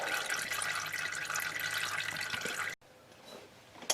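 Engine oil pours from the drain of a 1963 Oldsmobile 98 in a steady, loud splashing stream, then suddenly drops to a quieter trickle near the end.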